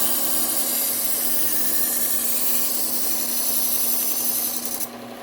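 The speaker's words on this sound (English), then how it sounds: "This is a Bucktool Low Speed sander, Cubitron P120 belt." A Bucktool low speed belt sander running a Cubitron P120 belt grinds a Henckels knife blade with a broken tip, a loud, close, continuous abrasive rasp that eases off right at the end.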